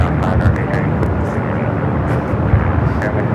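An airliner taking off from runway 24 Left at Los Angeles International Airport, heard as a loud, broad, continuous engine roar that fills the whole stretch, with a voice speaking over it.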